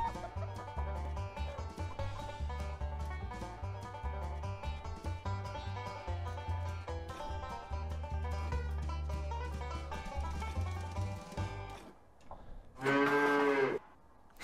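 Cartoonish cow moos from a farm animal in the Hand Simulator video game, sounding loud and close in a short burst near the end, following a long stretch of steady background game music.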